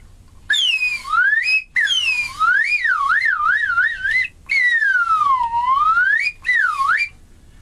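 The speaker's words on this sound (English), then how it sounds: "A slide whistle." Slide whistle playing alone, loud and close: a sequence of sliding pitch sweeps that swoop down and up, with quick wavering wobbles in the middle and a slow dip near the end, broken by short pauses.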